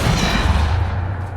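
Depulso force spell from Hogwarts Legacy lands as a short, dense thump with a heavy low-end rumble and noisy burst, loud and close, lasting just over a second.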